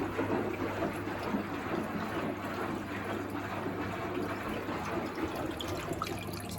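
A Miele WS5073 sluice washing machine converted to a drain pump, steadily pumping water out through its hose with a continuous low motor hum under rushing, gurgling water, close and even throughout.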